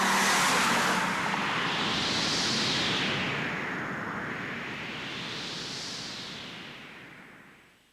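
A new Audi 200 Quattro with a 20-valve engine sweeps past, a loud, broad rush of road and engine noise rising and falling in two swooshes before fading out at the end.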